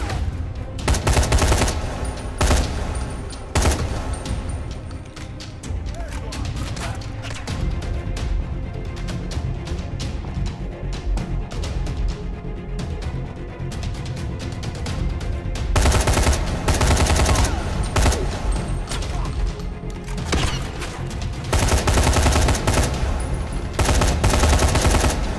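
Sustained automatic gunfire in the zombie game Dying Light, loud, close bursts of rapid shots running almost continuously for over twenty seconds, with brief lulls between the heaviest volleys.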